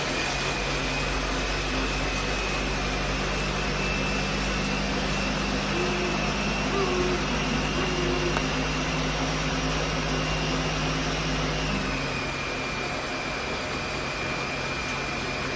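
A Ninja blender crushing ice runs with a loud, steady motor whir and grinding roar that holds for about twelve seconds, then drops off sharply near the end.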